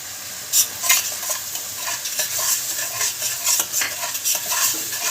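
Tomato, onion, ginger and garlic paste with cumin, turmeric and coriander powder fries in a pan, a steady sizzle broken by repeated scraping stirs up close.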